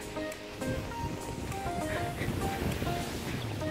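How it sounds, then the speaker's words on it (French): Wind roars across the microphone with irregular rustling and flapping, like loose tarps snapping in gusts, with a voice talking over it. "Et là-bas il y a les bâches avec le vent, c'est génial."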